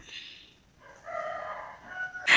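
A rooster crows once at moderate distance, a drawn-out strained call followed by a short clucking burst, with no voices nearby.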